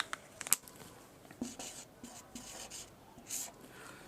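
Chalk or marker scratches and taps across a classroom board during a chemistry lesson, short faint strokes in irregular bursts with a quiet room behind them.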